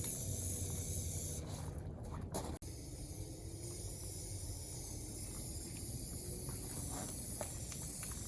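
Rust-Oleum flat black protective enamel sprayed from an aerosol can onto angle iron in a garage, a steady close hiss running throughout with a brief break and a sharp click near the middle.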